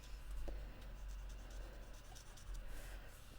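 A pencil shades a stamped duck on an Easter card with soft, close scratchy strokes, rubbing back and forth in short, irregular bursts.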